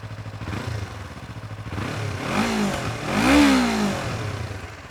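A 2025 Yamaha MT-25 motorcycle engine revs up close, with two rising-and-falling throttle blips over a steady mid-range idle, sounding slightly muffled through twin catalytic converters.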